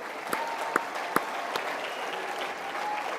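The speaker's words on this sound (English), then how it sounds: "big applause." An audience at the CPAC 2026 conference in Dallas, Texas, applauds in a dense, steady wash of clapping, with a few sharper individual claps standing out throughout.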